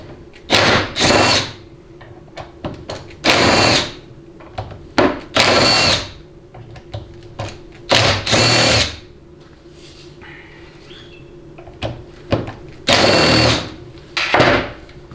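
A power tool zips bolts out of a Dodge 68RFE transmission during teardown, firing in short loud whirring bursts separated by quiet gaps, close by.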